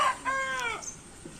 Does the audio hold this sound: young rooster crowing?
yes